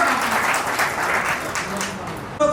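An audience at a teachers' award ceremony bursts into loud, dense clapping that carries on steadily for a couple of seconds before fading.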